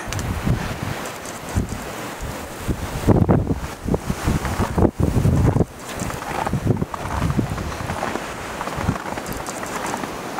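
Strong wind buffets the microphone near the summit of Seoraksan's Daecheongbong peak, a loud, continuous roar with gusty surges and rustling throughout, no voices heard.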